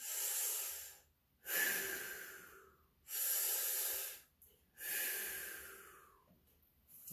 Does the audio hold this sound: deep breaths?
yes